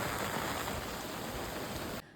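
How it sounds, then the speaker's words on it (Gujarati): Steady, even hiss of light rain falling close by, uniform in loudness, then cutting off abruptly near the end. "વરસાદ તો હજી નહીં રહ્યો થોડો થોડો રહી ગયો છે"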